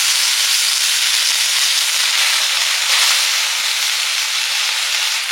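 Washed kulekhara greens sizzle and hiss steadily in a hot dry wok, a loud, dense, continuous crackle with no talking.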